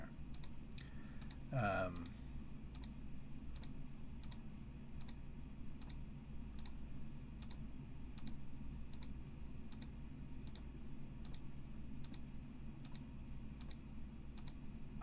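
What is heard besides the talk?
typing on a computer keyboard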